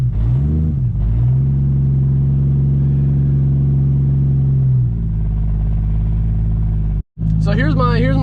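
A 2JZ-powered project car engine cranks, catches and settles into a loud, steady idle close by, then briefly cuts out before revving back up; a voice speaks over it.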